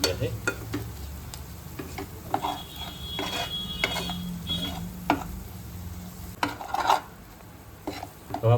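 Spoonfuls of spiced masala with onion, turmeric, coriander-cumin powder, chat masala and salt stirred and frying in a pan for aloo paratha, giving a steady close sizzle with repeated scraping and clinking strokes.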